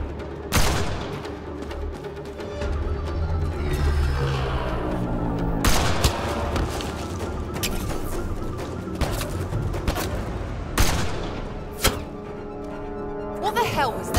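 Mid-battle gunfire in the sci-fi shooter game Mass Effect Andromeda, sustained loud volleys with sharp sudden cracks and booms over a dense rumbling score, while voices shout in the mix.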